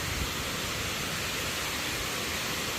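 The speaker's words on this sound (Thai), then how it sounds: "โอ้มาถึงแล้วครับน้ำตกสวยงามจริงๆ โหตกมาจากหน้าผา หน้าผาสูงเลยนะครับ" Klong Lan waterfall plunging from a high cliff: a steady, dense roar of falling water, broadband and loud, constant without break.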